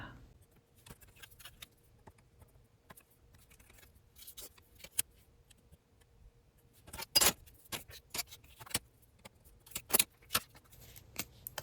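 Scissors trim paper for a Winnie the Pooh artist trading card: faint, quiet snips at first, then a run of sharper, louder clicking cuts in close succession toward the end, with no talking.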